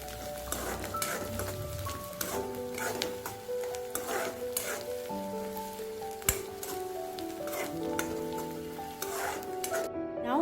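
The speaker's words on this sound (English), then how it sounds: "Now add 1 teaspoon of chopped garlic and fry it for 30 seconds" Chopped garlic frying in a pan for crispy chicken, with a soft, steady sizzle and occasional clinks and utensil taps, fairly quiet and without talk.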